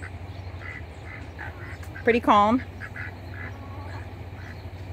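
A Saxony duck, a large backyard egg-laying breed, gives a short burst of several loud, close quacks midway, against faint background ambience; a person briefly speaks.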